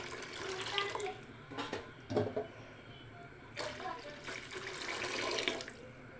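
Water is poured into a simmering pot of tamarind-based fish curry (chepala pulusu), giving a close, uneven splashing pour that swells and fades in bursts, with no talk over it.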